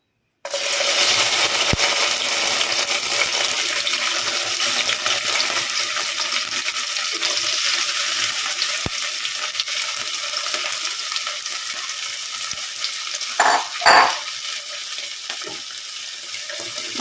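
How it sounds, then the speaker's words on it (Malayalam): Cut okra hits hot oil in a pan and sizzles in a continuous, loud hiss that holds steady throughout, with a brief stir or clatter near the end and no talking. "വെണ്ടയ്ക്ക ഒന്ന് ഫ്രൈ ആവട്ടെ കേട്ടോ"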